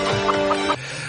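A chicken clucks in a few quick, loud bursts in a scene from the film Rambo: First Blood Part II, over a steady background bed that cuts off abruptly near the end.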